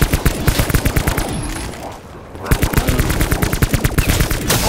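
Automatic gunfire in the video game Call of Duty: Black Ops 4, loud rapid bursts of close shots in a steady rattling rhythm, broken by a short pause before firing resumes.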